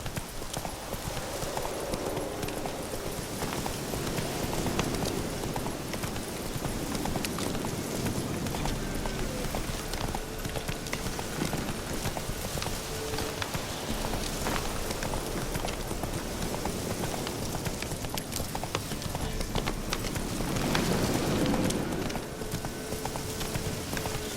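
The horse Roach gallops in The Witcher 3 with a steady run of hoofbeats under game sound and ambience, close and continuous throughout.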